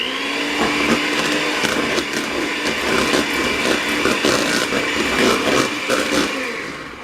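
Cheesecake batter with a capful of vanilla is whirred by an electric mixer, a steady loud motor drone with a rattling beater texture that holds for several seconds before easing off at the end.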